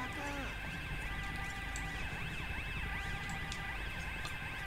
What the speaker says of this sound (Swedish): Right, det är mycket sirener och grejer.